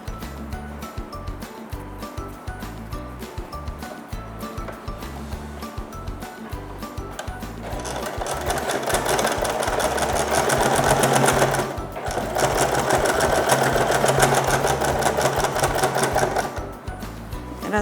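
A sewing machine stitching closed the opening in a bag's lining, an even motor whir with a fast needle rhythm, starting slowly then running at full speed, pausing briefly, then running again close by.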